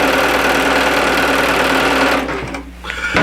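Sewing machine chain piecing fabric strips, a loud close continuous mechanical whir for about two seconds that slows and stops, followed by a short restart near the end.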